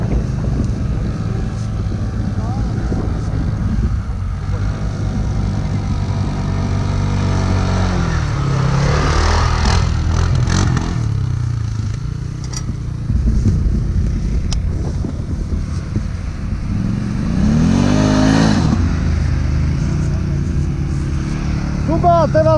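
Two 500cc quad bikes are ridden outdoors. A loud engine drones throughout, its pitch rising and falling as the rider revs and shifts, with wind buffeting the microphone and voices shouting now and then.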